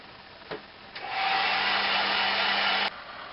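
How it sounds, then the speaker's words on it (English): A hairdryer on a low heat setting clicks on and blows a steady airy whoosh for about two seconds, then shuts off, close and fairly loud. "or speed up the process with a hairdryer on a low heat setting."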